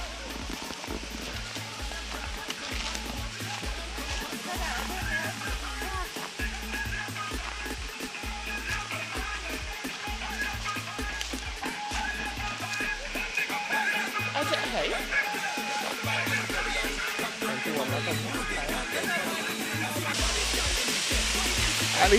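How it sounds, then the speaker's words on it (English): Rushing water at the Highland Waterfall pours in a constant broad roar, with a thumping rhythmic beat of background music running beneath it throughout. "Highland Waterfall."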